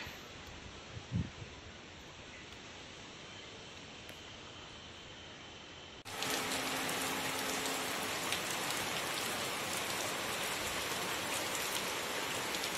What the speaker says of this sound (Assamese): এতিয়া বৰষুণ জাকো আহিলে